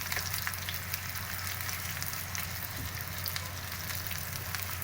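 Peshawari chapli kebabs sizzle steadily in a hot pan just after being flipped, a dense continuous crackle and spatter close by with no talking.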